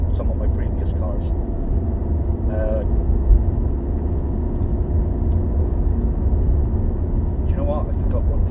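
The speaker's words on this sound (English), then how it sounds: "When you're just cruising like this, the actual cabin noise is pretty good." Inside a Ford Focus RS cruising on the road, a steady low cabin rumble of road and engine noise carries throughout, with a voice briefly heard over it.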